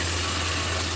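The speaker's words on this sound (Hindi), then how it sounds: "तो अब मैं पानी डाल दूँगी चावलों के साथ" Water pours steadily into a pot of rice and spices, a continuous close splashing gush under a low steady hum, with no voices.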